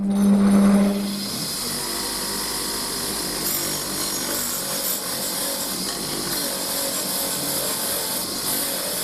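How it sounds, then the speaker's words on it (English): A wire wheel runs steadily against a machined steel spanner of unknown brand, a continuous loud abrasive whir with a brief lower hum at the start, alone with no talk. "I'm just going to run it past the wire wheel and see if it cleans up reasonably well"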